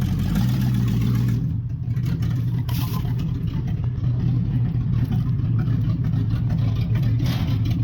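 A 1969 Chrysler 300 street machine's engine runs steadily as the car creeps forward, a loud continuous low rumble with a brief dip in the middle and no speech.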